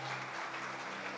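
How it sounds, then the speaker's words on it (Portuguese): Church congregation applauding the Lord, a steady broadband wash of clapping that runs unbroken through the short stretch, with a faint low hum underneath. "Você pode aplaudir o Senhor para me ajudar aqui em cima?"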